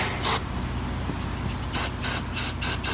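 Brake cleaner sprayed on a Honda Acura J-series oil filter housing in several short aerosol bursts, quick hissing puffs spaced unevenly, close but moderate, over a low background rumble.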